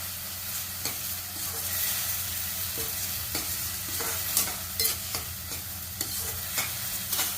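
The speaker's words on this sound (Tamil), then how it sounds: "சேர்த்து நல்லா வதக்குறோம் இப்போ இதை வதக்கிக்கிறோம்" Ground mint and black pepper sautéed in a pan for mint rice: a continuous close sizzle with regular soft scrapes and taps from the stirring spoon, and no one speaking.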